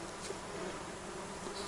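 A swarm of mosquitoes whines around a hunting dog on a forest outing, a faint, continuous high buzzing with no voices.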